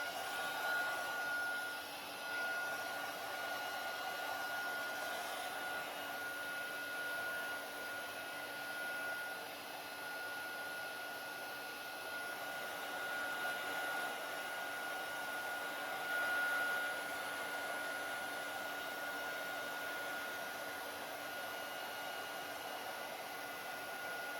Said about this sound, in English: I'm just drying it to make sure that I don't mess it up as I work through this placemat.